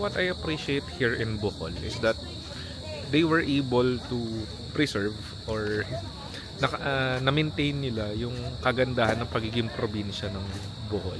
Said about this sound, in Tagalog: Yung tunog ng kuliglig